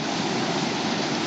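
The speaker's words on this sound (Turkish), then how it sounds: "Şu an Mazda içerisinde bulunan Cemilaşan köyünde ki şelaledeyiz." Waterfall at Çeme Reşan village in Mazıdağı, Mardin, a steady, loud broadband rush of falling water that holds constant and close throughout, with no voices.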